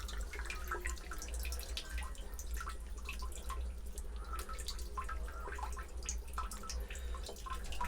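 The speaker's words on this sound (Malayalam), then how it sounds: "ഇനി ഇതിനകത്തേക്ക് നമ്മൾ ഈ ടാപ്പ് അടച്ച് നമ്മൾ ഈ വെള്ളം ഇതിനകത്തേക്ക് ഒഴിക്കുക." Water poured into a well-water iron filter with its tap closed, producing a steady close trickle with scattered small drips and splashes and no voices.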